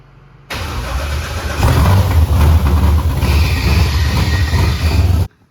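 A swapped-in 6.0L V8 with a Holley carburetor in a Pontiac Tempest cranks, fires up loudly and revs with a rough, surging roar before cutting off abruptly.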